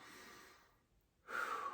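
A deep breath drawn in through the nose during a seated lower-back desk stretch, a soft airy inhale that fades, a brief pause, then a louder, clearer breathy rush, close and alone.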